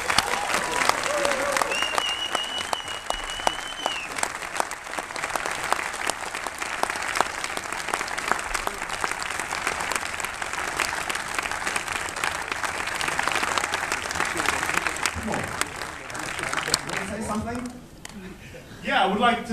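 A premiere audience in a cinema applauding the film's cast and crew, dense sustained clapping from a large crowd with a voice speaking over it, the clapping fading near the end.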